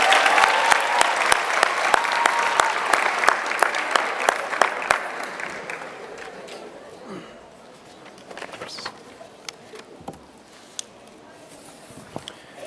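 Sustained audience applause at a 2017 Ubah Medical Academy graduation ceremony, dense clapping for about six seconds, then tapering into scattered claps and faint crowd murmur.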